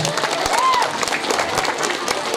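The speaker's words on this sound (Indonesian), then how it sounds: "Tepuk tangan." An audience claps at a Haflah Imtihan ceremony of Pesantren Persatuan Islam 74 Kadipaten, a short burst of dense, steady applause with a brief whistle, heard close and alone.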